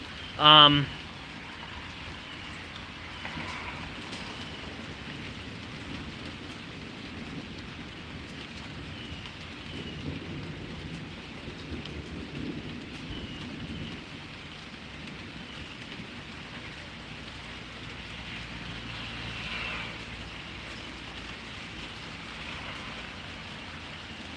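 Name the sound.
thunderstorm rain hitting plants in Pittsburg, Kansas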